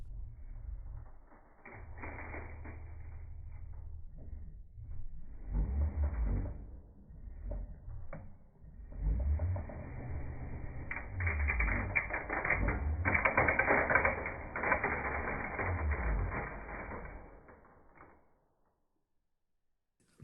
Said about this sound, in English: Let's say we want to dispense 10 screws.